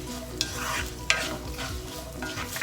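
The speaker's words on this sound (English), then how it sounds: "The onions will sizzle along with these seeds." Onions and seeds sizzle and crackle in a hot pan for an eggplant dip, a steady close frying hiss with a couple of sharp stirring scrapes.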